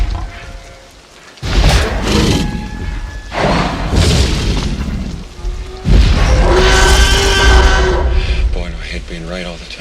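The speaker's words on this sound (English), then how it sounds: "Nobody can forget the first time they heard that T-Rex roar" A deep, booming T-Rex roar from Jurassic Park rises in heavy bursts, loud and close. Rumbling thuds and rain-like noise run beneath it, with further roaring swells toward the end.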